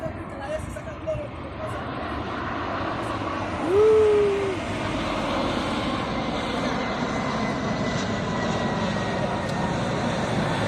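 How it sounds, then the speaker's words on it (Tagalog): An airplane passes near Wellington Airport, its engine a broad, steady rumble and roar heard from a distance over open-air background noise, with a brief tonal chirp early on. "Ito na guys, ang eroplano dito sa Wellington."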